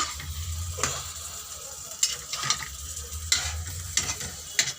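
Turnip and rohu fish braise in a pan on the stove, with repeated scraping stirring strokes over a soft, steady sizzle at close range.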